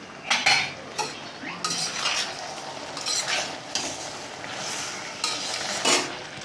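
A metal spoon stirs chicken into curry in a cooking pot, scraping and clinking against the sides in uneven strokes over a low sizzle, with no voices.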